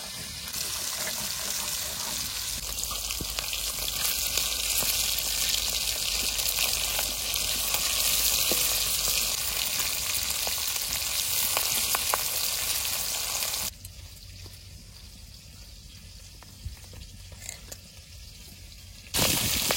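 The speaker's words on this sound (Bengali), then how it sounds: "মাগুর মাছ ভাজতে ঝামেলা নাই, তেলের মধ্যে দিয়ে নাড়াচাড়া দিলে মাছ ভাঙে না" Magur catfish frying in hot oil in a village kitchen wok, a steady dense sizzle running loud and continuous, then dropping quieter near the end with a few stirring clinks.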